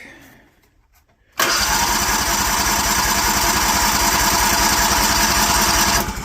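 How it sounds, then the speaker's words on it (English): A DuroMax 713cc 23hp engine with a new starter cranks briefly, then catches and runs at a loud, steady rumble, close by, after a short quiet lead-in. "let's see if we can get this bugger to fire up. Put the clutch down, brand new starter."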